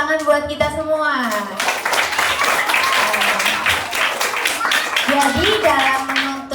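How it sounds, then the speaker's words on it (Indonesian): A small audience at a public-speaking session on seeking knowledge claps together for several seconds, bright crisp handclaps filling the middle, with a speaking voice at the start and again near the end. "tepuk tangan buat kita semua"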